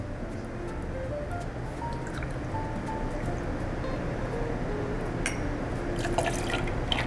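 Freshly squeezed carrot juice pours into a glass for a Bunny Mary cocktail, a steady close liquid trickle with small drips running throughout.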